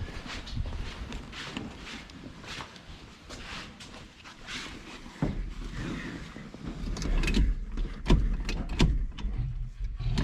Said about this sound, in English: I'll just try and wiggling the shifter around now that it's disconnected and see what it does.